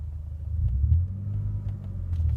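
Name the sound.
car engine revving during manual driving lesson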